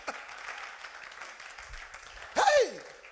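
A church congregation at a Sunday worship service cheers and applauds for Jesus, a steady wash of crowd noise that swells into a loud burst of shouting near the end.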